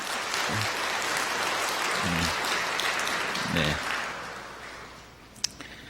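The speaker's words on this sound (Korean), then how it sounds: "여러분들 환영의 박수 부탁드리겠습니다" A church congregation at a Sunday service claps to welcome a young member back from military service. The steady, full applause fills the sanctuary, with a few low voices underneath, and fades near the end.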